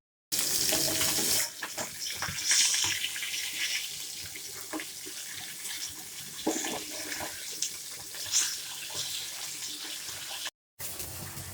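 About one and a half mugs of water poured into a cooking pot for a fish curry, a steady splashing pour running close and continuous with small surges, no talk.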